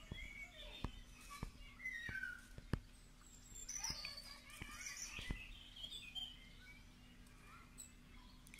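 A blackbird in the Hidcote kitchen garden sings faint, scattered chirps and whistled phrases, with sharp clicks and soft rustling close by.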